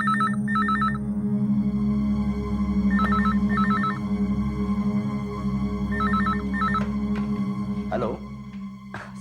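A telephone rings in repeated double bursts of a bright electronic trill over a steady low hum, with a few sharp knocks and rustles near the end.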